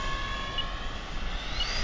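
An E-flite SU-30 RC jet passes overhead with a steady, high ducted-fan whine and a broad rushing roar, its pitch sweeping upward near the end.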